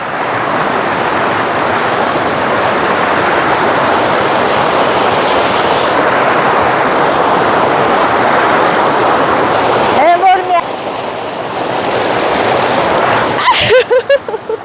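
A waterfall rushes with a loud, continuous roar of falling water that fills the whole scene. Brief voices break in near the end.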